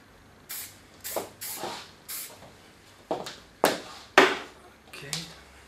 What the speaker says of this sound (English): A little bit of hairspray just to fix what I did